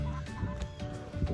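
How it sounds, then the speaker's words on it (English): Chickens cluck and murmur softly at close range as they settle into a newly built large DIY coop, with short overlapping calls over a steady low background. "The chickens are trying to settle in a little bit."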